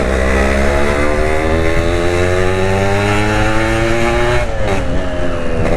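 A Yamaha RX-King two-stroke motorcycle ridden fast on a narrow road, its engine holding a loud, raspy, buzzing high-revving drone close by, with pitch dipping briefly near the end as it shifts.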